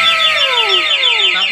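A motorcycle anti-theft alarm siren wails loudly on its own, with repeated descending electronic sweeps in a continuous cycle.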